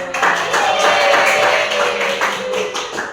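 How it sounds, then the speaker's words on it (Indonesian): Junior high students clapping hands in a classroom during a teaching session, a dense steady burst of clapping with a faint tone running underneath, fading slightly toward the end. "Oke, tepuk tangan."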